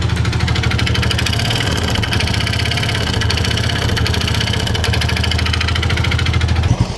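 Yamaha Vega Force motorcycle engine idling with a rough, knocking clatter, steady and close, a dense rapid ticking over a low rumble throughout with no talk.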